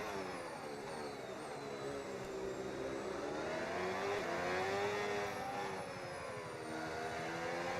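Formula 1 car engine screaming at the British Grand Prix, a continuous high-pitched whine with rising and falling pitch sweeps, loud and steady throughout.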